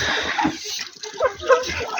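Water is poured for farm animals, giving short splashing and sloshing bursts close by in an uneven rhythm.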